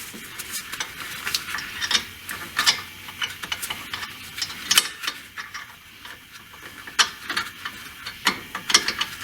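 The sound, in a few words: ratchet tightening nut on sway bar link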